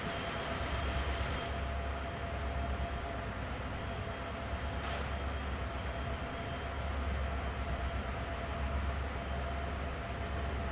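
A train rolling along in Train Simulator World on a misty autumn evening, a steady low rumble of wheels and carriage noise throughout, with a faint hiss and a couple of brief bright clanks.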